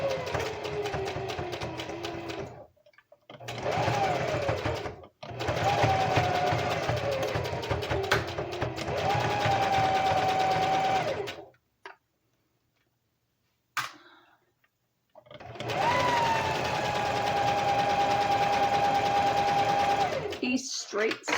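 A sewing machine runs a straight stitch through knit fabric in long steady buzzing bursts with brief pauses between runs, close and loud, with a person talking over it.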